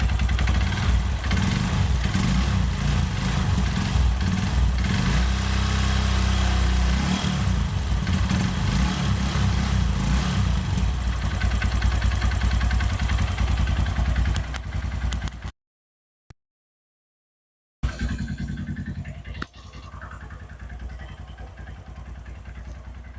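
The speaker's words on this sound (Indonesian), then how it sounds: "kira-kira itu impresi starter mesin dan suara mesinnya" A Honda CB150 Verza motorcycle engine, run on Delvac car oil, starts and runs at a steady, loud idle, its clattery putter continuing for a long stretch before cutting out briefly and then resuming more quietly.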